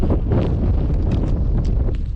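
Cold wind at a boat ramp buffets the microphone in a steady, loud roar of low rumbling gusts with no other sounds standing out.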